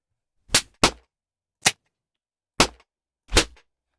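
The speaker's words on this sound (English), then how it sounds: "A slap. We'll put a slap on top." Five sharp, sudden slap hits for a fight scene sound effect, each a loud isolated crack, arriving in uneven spacing with silence between them.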